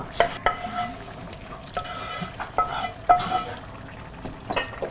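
Curry is stirred in a pan after leaves go in, with repeated metallic scrapes and clinks of a spoon against the pan over a low, soft sizzle.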